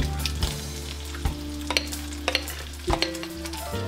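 Blueberry pancake batter sizzles steadily in a pan on an electric stove, with a few soft clinks and scrapes punctuating the continuous frying hiss, close and moderately quiet, no talking.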